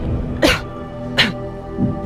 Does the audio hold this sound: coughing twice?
yes